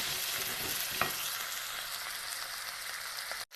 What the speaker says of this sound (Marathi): रायच्या तेलात मस्त कांदा हिरवी मिरची आणि लसूण ही टाकून घेतले